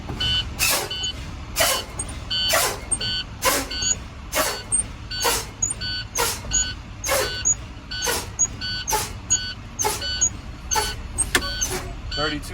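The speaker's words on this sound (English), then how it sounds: "I'm going to continue to lower the air pressure by pumping the brake until my tractor and my trailer brakes both pop out" Air brakes on a Class A tractor-trailer hiss in sharp, repeated bursts as the brake pedal is pumped inside the cab, about a dozen loud releases at a steady, fairly quick rhythm over a low rumble.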